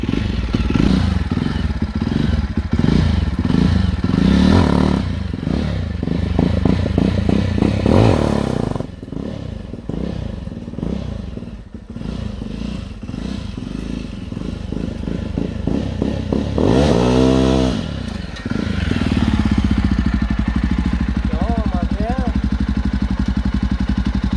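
A John Deere 5405 tractor engine runs loud and close in third gear with a throbbing mid-pitched drone and rattling, while people talk over it throughout.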